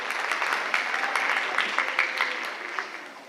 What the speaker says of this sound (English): She needs a clap.